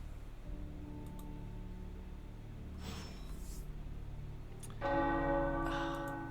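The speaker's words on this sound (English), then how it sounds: "The tower bells are ringing." Low, sustained tower bell tones in the video game Midnight Suns ring out, a brighter bell strike entering near the end, resonant and moderately loud over a quiet hum, no speech.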